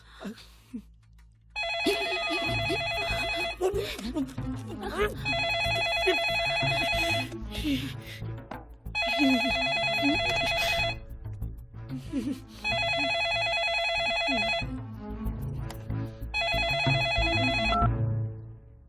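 A telephone rings in five long bursts separated by short pauses, bright and electronic over a steady low hum.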